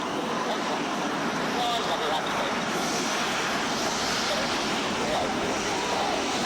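Red Arrows display jets from the RAF team flying in to recover to Newcastle Airport after the Sunderland Air Show, a continuous broad jet roar that holds steady and loud throughout, with a voice talking over it.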